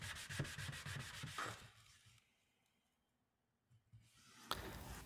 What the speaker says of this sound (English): Light sanding around the perimeter with the palm sander and sanding block